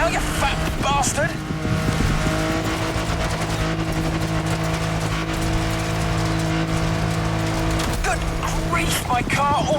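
Off-road car in The Crew Motorfest racing downhill at full speed, a loud steady engine drone with layered harmonic whine and tire skidding throughout, someone talking over it at the start and end.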